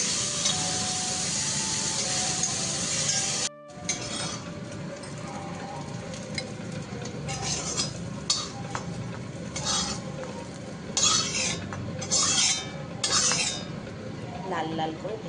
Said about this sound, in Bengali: আগে মাছটাকে ভালো করে ভেজে নিই।